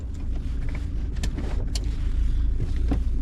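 A car pulls away from a standstill, its engine a steady low rumble heard from inside the cabin, with faint rattles and clicks over the top.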